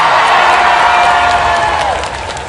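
A crowd in a jousting tournament video game breaks into loud, sustained applause and cheering that tapers off slightly toward the end.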